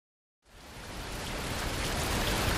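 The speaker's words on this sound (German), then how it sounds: "Oh, Regen." Rain in the Fernbus Simulator bus-driving game begins abruptly after a moment of silence, a dense steady hiss that swells slightly and continues alone.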